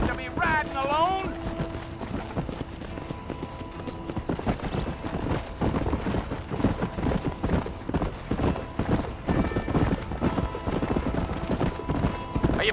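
Horse hooves clip-clop in a steady, close rhythm as riders travel in Red Dead Redemption, with a whinny near the start and voices talking over the trotting.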